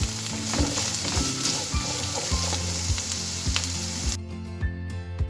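Finely chopped carrot sizzles steadily in a pan while cooking to soften, with repeated knocks and scrapes of stirring; the sizzle drops away sharply near the end, leaving only a few clicks.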